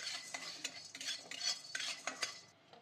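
Chana dal is fried in a little oil and stirred, with soft scraping and light metallic clinks of a spoon against the pan over a faint sizzle, quiet and close, no voices.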